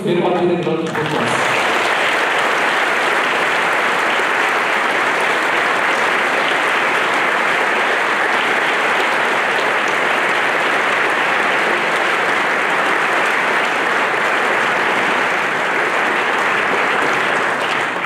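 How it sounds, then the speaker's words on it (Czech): A large audience at a school anniversary concert for an art school in Český Krumlov breaks into sustained applause, dense and loud, filling the hall for nearly the whole stretch after a brief spoken moment at the start. "Těm všem pojďme prosím věnovat jeden velký potlesk."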